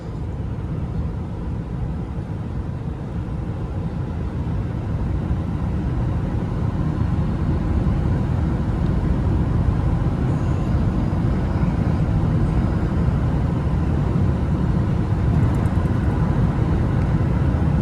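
Steady low interior rumble and road noise from a 2005 Lincoln Town Car Signature Limited cruising along, a constant dense drone with no breaks and no talking.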